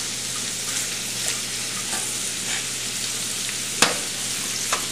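Carrots and other vegetables frying in a pan for Indian-style Chinese fried rice, a steady close sizzle with a few sharper clinks of stirring.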